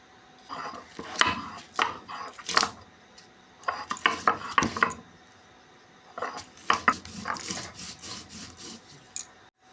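A spice paste of green chili, cumin, white mustard seed and poppy seed is ground by hand, heard as irregular bursts of gritty rubbing and scraping strokes close by, with short pauses between groups.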